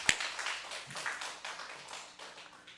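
A church congregation claps in praise to God during a Wednesday worship service, a dense, sustained patter of many hands filling the room, steady and moderately loud without voices.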